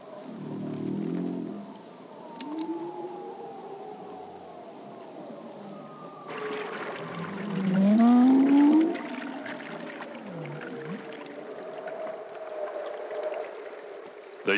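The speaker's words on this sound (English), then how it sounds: "The whale calls are carefully recorded by Gary." Bowhead whale calls recorded beneath the Arctic ice pack: long, moaning sweeps that rise and fall, including one loud upswept call near the middle, over a steady low underwater hiss.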